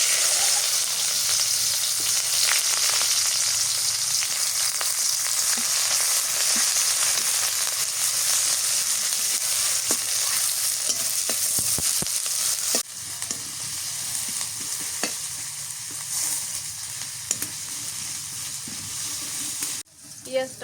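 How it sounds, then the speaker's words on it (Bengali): Onions fry in ghee in a pan for fried onion topping, a loud, steady, close sizzle with crackling bursts and occasional stirring scrapes throughout, easing slightly partway through. "পেঁয়াজটা ভালো করে ভাজে বেরেস্তা করে নিই"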